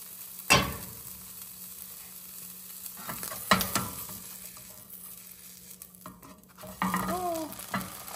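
Food sizzling in a frying pan, a steady close hiss broken by a sharp flip or scrape, then a few utensil clinks and renewed sizzling, no one speaking.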